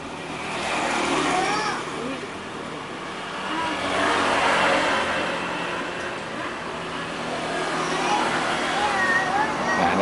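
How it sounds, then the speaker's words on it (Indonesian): A car engine held at full throttle, with a fault at the throttle body and TPS, swells in a sustained rising and falling roar, with voices talking over it throughout. "Oke, digas pentok dulu mas bro, mau enggak?"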